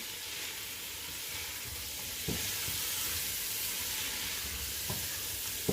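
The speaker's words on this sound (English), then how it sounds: "So I'm just gonna let it fry so all this seasoning can penetrate right into the meatballs" Meatballs fry in seasoning with Maggi stock in a pan, giving a steady close sizzle with a few soft scrapes and clicks. No one speaks.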